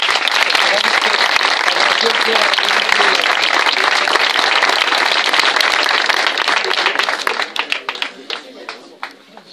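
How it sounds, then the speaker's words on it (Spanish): A crowd applauds loudly and densely at an athletics club's cider-house gathering in Gijón, then the clapping thins into scattered individual claps as it fades out. "un aplauso para él"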